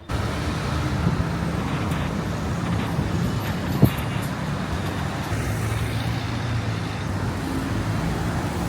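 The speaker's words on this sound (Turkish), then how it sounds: "o kadar çok araba geliyor ki her yerden" Dense, steady traffic on a busy Casablanca street, with cars, buses and trucks rumbling past together and a continuous roadway roar that holds level throughout, plus one brief sharp knock midway.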